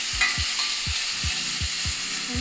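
Meat for Vietnamese bun thit nuong sautéing in a smoking-hot pan, a steady close sizzle broken by a regular series of low thumps as it is stirred and tossed.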